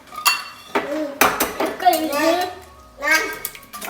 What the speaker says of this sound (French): Maman casse les œufs et toi, tu mélanges.